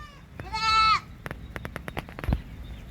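A goat gives one loud, close bleat, followed by scattered clicks and clatter of a small herd penned for sale.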